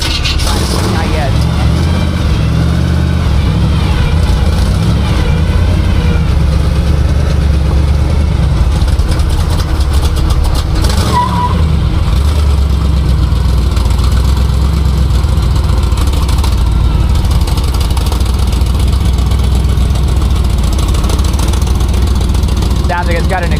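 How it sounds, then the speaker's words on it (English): A 1965 Chevy C10 pro street truck with a big block 454 idles steadily and loudly, its broken header leaking exhaust, with a constant low rumble running under people talking. "Sounds like it's got an exhaust leak now too. Broke the header."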